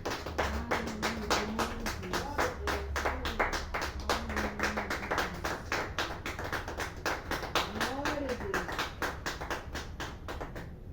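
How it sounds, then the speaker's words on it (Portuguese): Rhythmic clapping in praise at a church worship service, steady evenly spaced claps repeating for several seconds with faint singing voices underneath. "E as palmas louvam o Senhor."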